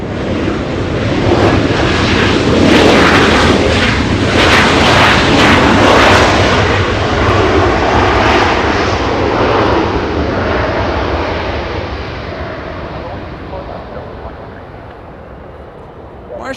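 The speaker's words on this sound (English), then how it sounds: "Big American Airlines, a big 777 flying to London." An American Airlines Boeing 777 takes off bound for London, a loud, sustained jet roar that swells and holds and then slowly fades as the big airliner climbs away.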